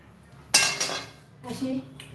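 A steel dish is picked up and handled in a kitchen while making gulpapdi, a jaggery sweet, with the plate greased with ghee. Close metallic clanks and clinks come in two bursts, the first one sharp and loud.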